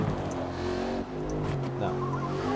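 Skidding RC car drifting with squealing tires in the Daytona RC racing game, engine whine holding a steady pitch throughout, close and continuous with no one talking.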